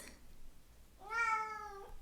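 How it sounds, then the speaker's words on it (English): A single clear meow from an excited cat rises and holds for just under a second, fairly close, in an otherwise quiet room with no talking. "that was my cat. He's excited"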